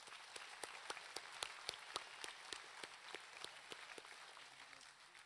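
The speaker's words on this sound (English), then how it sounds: "Please join me in a round of applause." Faint, distant applause from a graduation ceremony crowd, with a scattered, fairly even clapping pattern running steadily through the short stretch.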